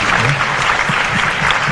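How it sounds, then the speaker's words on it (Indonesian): A room of high school student council members breaks into steady, dense applause at a forum discussion, loud and continuous throughout with a faint crowd murmur underneath. "Beri tepuk tangan semua yang benar."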